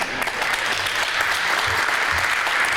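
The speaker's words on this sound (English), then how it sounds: "Maybe it's time for the teams to give an applause for the audience." Competing teams at a youth day event of a gas forum applaud the audience, steady, dense clapping from a crowd filling the room without a break.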